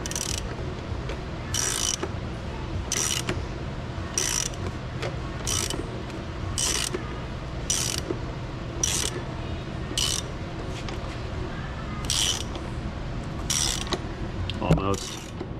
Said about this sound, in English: Ratchet's coming in.